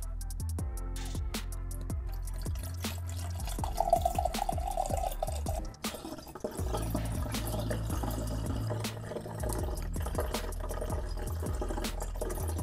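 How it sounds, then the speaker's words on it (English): Blanc Vermouth poured into a large batch of Manhattan cocktails: liquid gurgles and drips steadily into a container with scattered clinks and knocks, close-up and moderately quiet, with no voices. "And this Blanc Vermouth is gonna go in."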